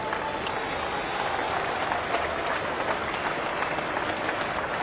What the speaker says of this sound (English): Terrific reaction from the crowd and from Root.